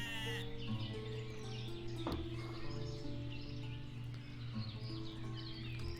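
Sheep bleat in the farming village game Ostriv, steady tonal calls layered over continuous game music and ambience, with a sharp brief sound near the middle.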